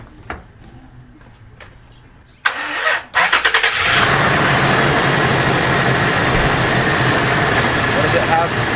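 A nearly dead car is jump-started with a Dewalt battery charger: after a quiet stretch the starter cranks in a few short bursts, then the engine catches and settles into a steady, loud idle that carries to the end.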